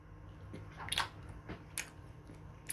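Someone eating brown bread dipped in oil, with soft close bites and moist chewing at an uneven pace, quiet and with no talk.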